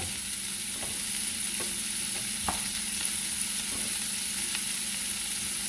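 Egg and shrimp hiss in a frying pan with a constant, close sizzle, while a utensil scrapes and taps the pan a few times during stirring.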